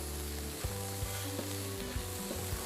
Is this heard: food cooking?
yes